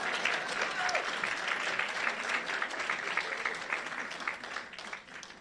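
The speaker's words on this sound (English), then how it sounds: "you'd have given me a better round of applause." An audience at a conference fills the room with sustained applause, dense steady clapping from many hands that holds for several seconds and then tapers off near the end, with a faint voice underneath.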